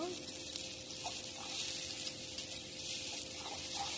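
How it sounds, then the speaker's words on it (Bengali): Onions sizzling in a pan after a pinch of salt, a soft steady frying hiss with light stirring clatter, fairly quiet and without speech. "এখন পেঁয়াজটা একটু ভেজে নিব।"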